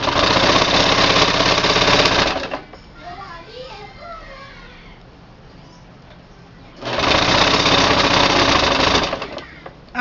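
A sewing machine stitches a knit off-shoulder mermaid dress in a loud, steady run, stops while a voice chatters in the quiet, then runs again at full volume.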